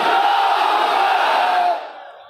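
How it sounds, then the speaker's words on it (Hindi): A large crowd roars the religious slogan Nara-e-Takbir in unison, one loud sustained collective shout that swells and then cuts off, leaving a fading echo. "हाथ उठा कर कहिए नारे तकबीर, नारे तकबीर"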